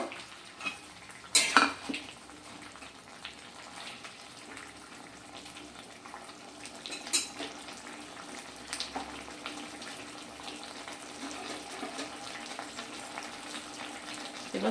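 Fried bori and bitter gourd being mixed in a pot for Bengali shukto, with quiet scraping and stirring under a faint background hiss, and two sharper metallic clanks near the start and one in the middle, close up and without talk.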